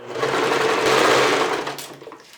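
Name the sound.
sewing machine stitching a straight seam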